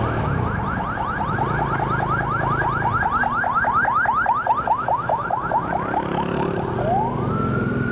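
A loud ambulance siren wails in rapid, repeating up-down sweeps, close by and continuous, over steady traffic rumble heard from a motorcycle, ending with one long rising tone.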